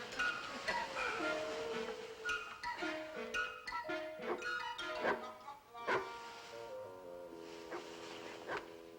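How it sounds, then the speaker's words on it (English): A dog barks and yips from down in a basement, muffled and somewhat distant, in a run of short irregular barks with a whimpering tone, laid under music. "the dog's barking again"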